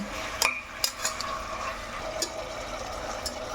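Mutton liver fries in a pan with a soft, steady sizzle while a metal spoon clinks and scrapes against the pan during stirring. Several sharp taps come early, then lighter scraping follows. No one talks.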